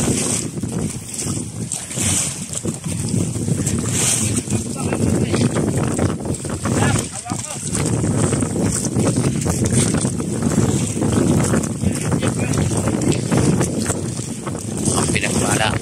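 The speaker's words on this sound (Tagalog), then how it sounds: "Grabe ang hangin, ang lakas na naman oh." Strong wind at sea roars as a steady broadband rush around a small boat, with water wash and microphone buffeting throughout, while people talk over it.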